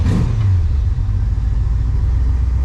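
A hot rod's engine rumbles with a muffler fault that sounds like an exhaust gasket leak, a loud, continuous deep throb at close range with no talking.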